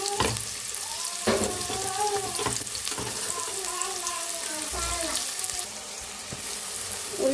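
Onions and green chilies fry in hot oil with a steady sizzle and scraping stirs, while a person speaks faintly at times over the cooking.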